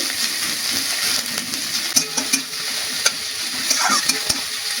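Chopped onion frying in hot oil with black cumin for a bottle gourd peel dish, a dense close sizzle punctuated by sharp spatula clicks and scrapes against the pan, no talking.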